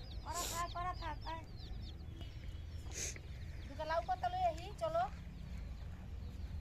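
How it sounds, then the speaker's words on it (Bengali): A hen and her chicks clucking in short bursts, with a couple of quick squawks, fairly faint against a quiet outdoor background. "এই যে মুরগি আর মুরগির বাচ্চারা।"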